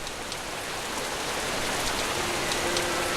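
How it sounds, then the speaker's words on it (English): Cold, clear rain falls steadily over a city, a dense, even hiss of droplets with no pauses and no voices. "The rain that fell upon the city was cold and clear."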